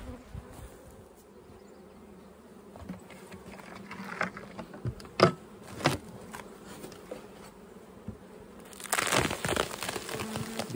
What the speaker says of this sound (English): Bees are nicely up top here.